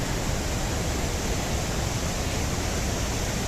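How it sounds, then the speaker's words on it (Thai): Steady, dense roar of falling water at Tad Lao waterfall, continuous and even throughout with no breaks, fairly loud and close, without voices or music. "ไปเบิ่งบรรยากาศน้ำตกตาดิ บรรยากาศสดๆเลยเด้อทุกคน"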